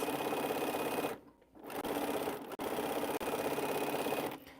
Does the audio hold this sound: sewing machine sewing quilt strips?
yes